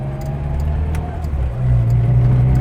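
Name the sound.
Datsun Cherry car driving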